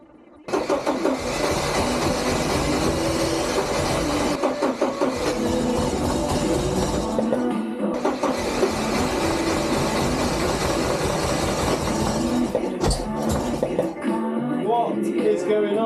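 A Porsche engine with a starting fault cranks loud and close for a long stretch, a steady churning drone that pauses briefly near the middle, resumes, then cuts off with a few clunks at the end.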